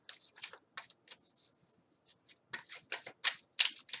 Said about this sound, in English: I literally was shuffling it too